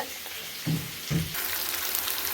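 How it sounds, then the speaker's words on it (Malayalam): Marinated chicken frying in coconut oil for a chicken curry in a home kitchen, a steady crackling sizzle with a couple of short thumps as pieces drop in, then a brighter, louder hiss that continues, with no talking. "അപ്പം ഞാൻ കുറച്ച് ഇത് വറക്കാൻ വെളിച്ചെണ്ണയിൽ വറക്കാൻ ഇട്ടിരിക്കുകയാണ്"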